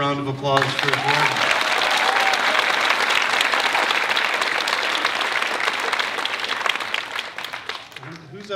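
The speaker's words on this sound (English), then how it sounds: "How about another round of applause for Jordan?" A college fund gala audience applauds Jordan after a singing performance, sustained loud clapping from a large crowd filling the room, with a brief voice at the start and end.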